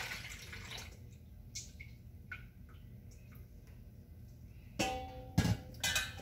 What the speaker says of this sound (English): I'm just going to pour the strained juice into this bigger bowl.